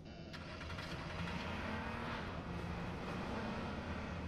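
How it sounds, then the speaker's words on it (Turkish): A steady airplane engine drone passes overhead in the video game H1Z1, a sustained roar with a faint whine, fairly quiet and unbroken. "Aynen uçak işte."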